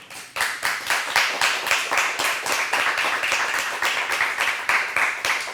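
Audience at a Spanish-language interview broadcast giving a sustained round of applause, dense rhythmic clapping from many hands that starts sharply and stays steady throughout, with no speech.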